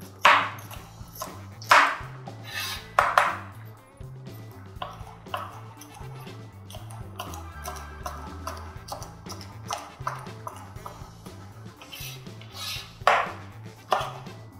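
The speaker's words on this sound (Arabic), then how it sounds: "اقطع الفلفل بالطريقه دي" Bell peppers chopped with a knife on a board: a series of sharp, irregular chops and taps, close and distinct, some in quick bursts with pauses between, over soft background music.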